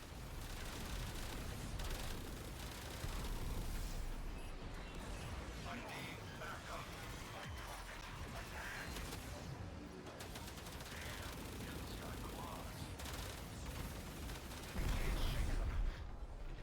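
Torpedoes launched from a railjack ship in Warframe space combat, a dense, continuous barrage of gunfire and explosions with a heavier burst near the end, voices talking over it.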